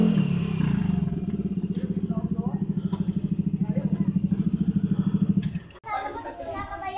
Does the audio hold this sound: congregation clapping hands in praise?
no